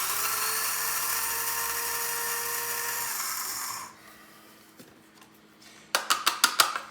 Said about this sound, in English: I just take my regular oats and I put them in my spice grinder.